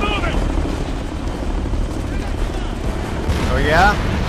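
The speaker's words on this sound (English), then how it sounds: "Hostile chopper inbound." A hostile helicopter in the video game Ghost Recon: Future Soldier sends out a loud, continuous rotor roar with bursts of gunfire mixed in, and voices come through toward the end.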